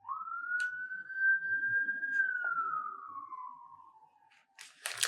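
A single emergency-vehicle siren rises into a long sustained wail, then slowly slides downward as it passes at a moderate distance, with faint clicks and a brief clatter near the end.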